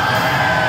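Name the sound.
wrestling crowd cheering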